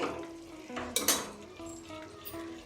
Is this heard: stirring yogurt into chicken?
yes